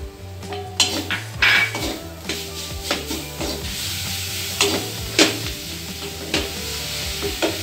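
Jaggery being stirred into lightly roasted grated coconut in a pan: repeated scraping and knocking of a spoon against the pan over a soft continuous sizzle, close and fairly loud throughout.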